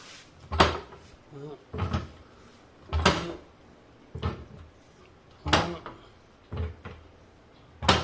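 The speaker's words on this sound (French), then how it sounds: "Donc, on visse la barre, histoire de fermer la soupape, et on pompe." A 3-ton AREBOS hydraulic car jack is pumped with a bar in full strokes, making a regular series of about seven knocking, clunking thumps roughly a second apart, with a brief spoken word between strokes.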